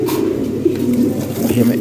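Lahore Siraji fancy pigeons coo in soft, low, rolling calls, close by, over a steady murmur of background noise.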